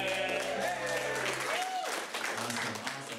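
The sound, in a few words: audience applause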